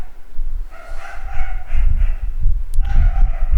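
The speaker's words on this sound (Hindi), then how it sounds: "इनका काम है भौंकना" Dogs bark in a few short bursts over low rumbling background noise, with a sharp yip or whimper between the barks.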